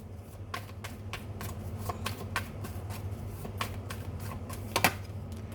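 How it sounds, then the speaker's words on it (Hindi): Tarot cards being shuffled and drawn, a string of quick crisp riffles and flicks at close range over a low steady room hum, with a sharper snap near the end. "एक कार्ड और ले लेते हैं।"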